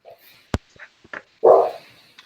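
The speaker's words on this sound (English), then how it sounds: "Big dog bark, little dog." A big dog gives a single loud, close bark after a few faint clicks and small noises in an otherwise quiet room.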